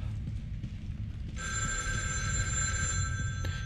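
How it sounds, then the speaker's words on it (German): A telephone starts ringing in the horror game The Evil Within 2, a steady electronic ring that sets in partway through and holds over a low rumbling ambient bed, with no talking. "Und dann klingelt so ein blödes Telefon"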